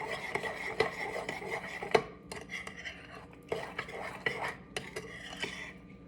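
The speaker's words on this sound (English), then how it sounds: "I'm going to use a spoon to stir it together" A spoon stirs mug brownie batter in a bowl, scraping and clinking against the sides in uneven strokes, close and fairly quiet, with brief pauses between bursts.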